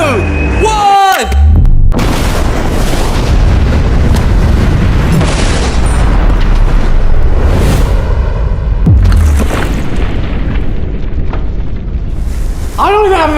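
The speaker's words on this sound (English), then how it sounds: "This is a real explosion." A huge outdoor explosion erupts as a deep, loud boom that rolls into a long rumbling roar of debris, and excited voices shout over it, with further bursts near the end.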